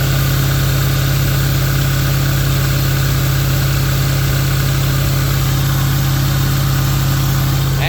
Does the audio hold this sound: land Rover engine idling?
yes